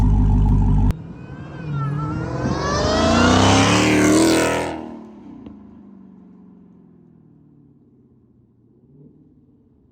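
A Dodge Charger Hellcat with an aftermarket exhaust revs loudly, climbing sharply in pitch then fading away, leaving a low idle rumble with no one talking.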